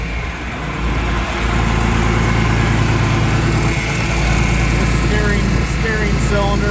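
Big orange tractor engine running steadily, a deep rumbling idle with a low throbbing drone, close and fairly loud throughout with faint chirps on top.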